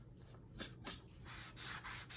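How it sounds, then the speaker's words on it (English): Rhythmic sanding strokes rubbing up and down on a guitar body, close and fairly quiet, several quick passes in a row. "I sand up and down because I bend."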